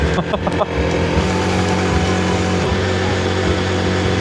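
A motorcycle engine runs steadily while being ridden through Chuncheon streets with speed bumps, holding a continuous close rumble and drone for the whole stretch.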